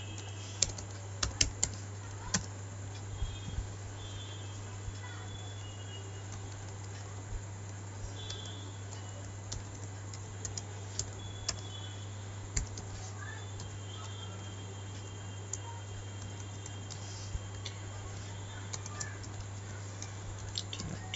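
HTML table code typed steadily on a computer keyboard, a long run of light, close keystroke clicks over a constant low electrical hum, with no voices.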